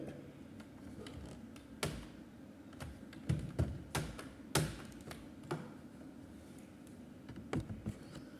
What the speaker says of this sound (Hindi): जैसे ही आप यहाँ पर अपने कीबोर्ड से कंट्रोल के साथ में राइट एरो प्रेस करते हैं